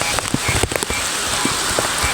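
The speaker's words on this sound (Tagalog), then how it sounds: "nakabutan na kami ng ulan" Rain pattering down on an open rice field while frogs are being caught, a steady close wash of drops with a few louder splats and knocks throughout.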